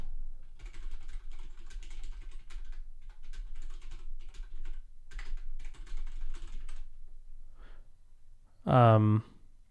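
Rapid typing on a computer keyboard while working on code for AlpineJS, as close, steady clatter in bursts, ending with a brief loud vocal sound.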